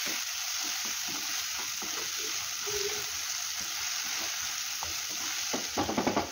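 Fried potatoes, vegetables and spices stirred together in a pan, a continuous sizzle with soft scraping stir strokes that grow louder near the end.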